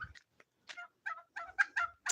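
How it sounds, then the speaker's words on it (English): Chickens and ducks in a backyard bird pen, including bantam chickens and upright-standing Dutch ducks, give a string of short, faint clucks and calls with brief gaps between them. "Here's another view of the bird pen, chickens, ducks."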